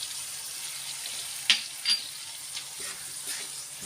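Potatoes fry in oil in a pan with a soft, steady sizzle, punctuated by a few brief stirring clinks and scrapes, fairly close and quiet with no talking.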